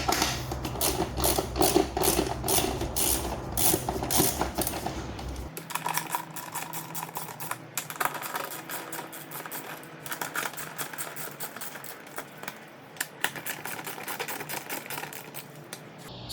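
Five 7 mm screws are loosened on the engine air filter cover of an Alfa Romeo Giulia Quadrifoglio, making close, rapid clicking and ratcheting under a steady background hum, with a louder buzzing stretch at the start.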